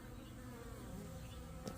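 Bees buzzing as they fly around a suburban permaculture garden in Ireland, a steady close droning hum throughout.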